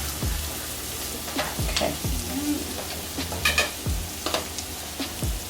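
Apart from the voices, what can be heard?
frying in bacon fat for tacos de birria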